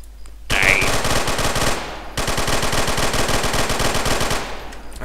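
Automatic gunfire in the video game Fallout 3 rattles in two long, dense bursts separated by a brief break, loud and continuous with no talk over it.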